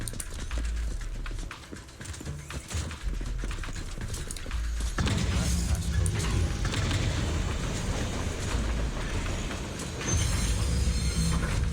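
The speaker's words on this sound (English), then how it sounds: "I guess it does make sense that they just look like a standard freight train." A standard-looking freight train rolls past in the video game Zenless Zone Zero, giving a loud, continuous rhythmic clatter and rumble that swells noticeably about halfway through and again near the end.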